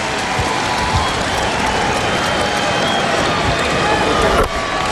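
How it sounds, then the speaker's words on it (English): Basketball arena crowd at a Knicks at Lakers game applauding Shaquille O'Neal as he sits down, a dense, sustained roar of clapping and cheering that briefly dips near the end. "Shaquille O'Neal hearing the applause as he sits down"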